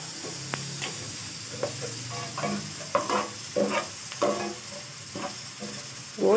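Meat browns in a pot on a home stove, a steady sizzling hiss broken by repeated scraping stirs and soft clinks, close and moderately loud with no talking.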